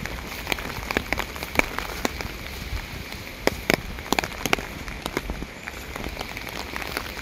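Steady rain patters on the ground and leaves outdoors near a large tree in a cold, wet UK setting, a continuous hiss broken by frequent sharp drips and splashes, with no talk.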